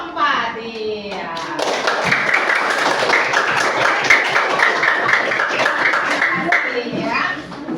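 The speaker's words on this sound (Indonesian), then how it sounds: "Kasih aplaus untuk kelompok 4" A primary-school classroom breaks into sustained applause, many children clapping together loudly for several seconds, with young voices calling out over it as the clapping builds and then fades.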